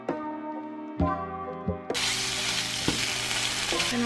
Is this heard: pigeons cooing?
no